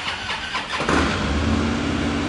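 A black 2013 Harley-Davidson Road Glide Ultra motorcycle cranks and fires up at a dealership, a short starter whir catching into a loud, close, rumbling idle that continues to the end.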